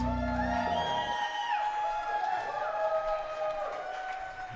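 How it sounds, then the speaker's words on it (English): A live music crowd at The Monarch calls out and whoops for an encore after a band's set, a loud, continuous wash of shouting and cheering voices with scattered clapping. "They're shouting for an encore."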